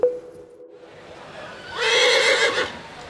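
A horse at the Zuidlaren horse market in a Drenthe village lets out a single loud whinny after a sharp click and a brief lull, with faint crowd murmur around it.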